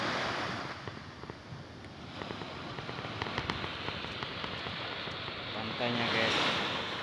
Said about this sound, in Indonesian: Menikmati deburan ombak di ambang sore ini